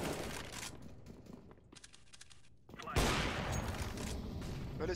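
Rapid gunfire bursts from a CS:GO match, loud and dense, dropping out briefly before resuming in a heavy crackling volley.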